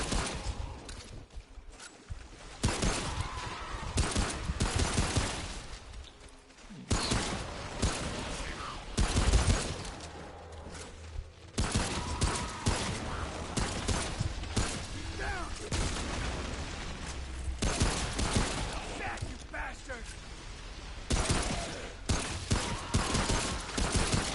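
Rapid bursts of weapon fire in the video game Remnant, repeated loud volleys with brief pauses between, mixed with game effects while someone talks intermittently.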